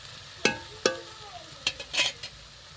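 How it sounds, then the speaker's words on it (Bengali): Spice paste fries in a pot over a wood-fired clay stove, stirred with a few loud metallic scrapes and knocks, then a cluster of quicker clatters over a soft background sizzle. "মশলাটা এদিকে কষাচ্ছি"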